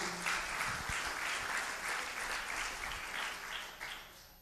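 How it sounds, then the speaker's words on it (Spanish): A church congregation at a leadership conference in Columbus, Ohio, claps in praise to the Lord, a soft, steady patter of many hands heard from a distance with a few louder thumps. "Le doy un aplauso al Señor."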